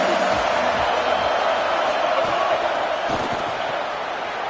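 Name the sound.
football stadium crowd cheering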